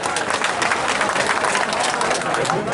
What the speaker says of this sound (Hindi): जोरदार जीतू पटवारी जी के लिए तालियां बजा दो।